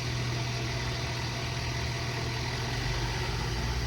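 A 2018 Ford F550 service truck's engine idles in a steady, low rumble, close and even, with a constant mechanical hum and no voices.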